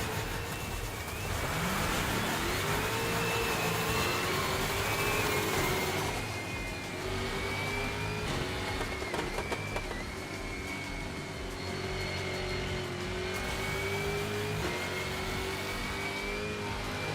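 Engines of giant RC-style cars racing in ExoCross whine and rev steadily, a high rising tone that climbs and holds with brief drops as gears shift, loud and continuous with no talking.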